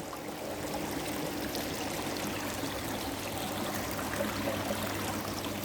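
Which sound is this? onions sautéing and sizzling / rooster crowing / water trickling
water trickling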